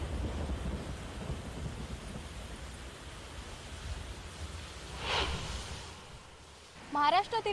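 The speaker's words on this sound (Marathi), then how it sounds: "महाराष्ट्रातील बऱ्याच भागात मुसळधार पाऊस पडतोय." Heavy monsoon rain and rumbling thunder over Maharashtra, a steady dense wash with low rolling thunder through the first half, a sharper burst around five seconds, and a brief voice near the end.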